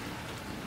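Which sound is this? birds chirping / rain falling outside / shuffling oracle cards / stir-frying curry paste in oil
rain falling outside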